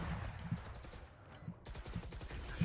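Gunfire from a competitive tactical shooter match with the Omen agent, with sharp shots at a steady rhythm of roughly one every half second, moderately loud and close among game effects.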